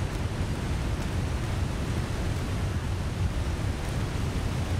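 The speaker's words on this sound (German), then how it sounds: "Die Geräuschkulisse ist echt hart mit dem Wasserfall" Continuous thundering rush of a waterfall in The Long Dark, loud and close, an even broadband roar with no pauses.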